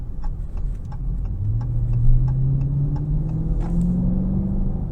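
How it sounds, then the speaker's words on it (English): A deep-throated 2022 Dodge Challenger R/T Scat Pack 392 V8 rumbles and climbs in pitch as it accelerates out of a corner, with a low growling exhaust building steadily and faint ticking noises throughout. "I'm going to give it a little throttle coming out of this corner here."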